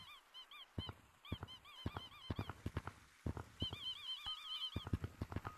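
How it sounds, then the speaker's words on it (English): A duck item in the Gorilla Tag video game honks over and over, a string of nasal quacking honks in quick irregular bursts, loud and close, with no talking. "A duck."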